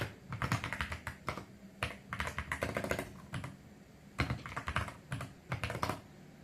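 Fingers type on a computer keyboard in quick bursts of clicking keystrokes, with short pauses between runs. The sound is close and clear, with no speech.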